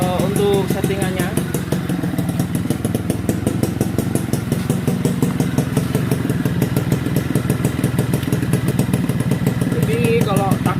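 A Suzuki Tornado two-stroke motorcycle engine runs steadily nearby with a rapid, even, buzzing putter and light mechanical clatter, while someone talks over it.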